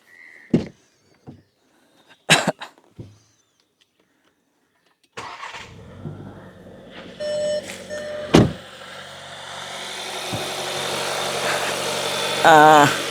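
Skoda Kushaq four-cylinder engine cranking and catching, then settling into a smooth, even idle that slowly builds in loudness, heard close up after a few clicks and knocks.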